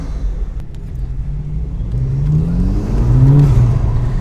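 Volkswagen GTI hatchback engine revving with a loud intake roar: a close, deep engine note climbing in pitch as the throttle opens, swelling louder over a few seconds with whooshing intake noise.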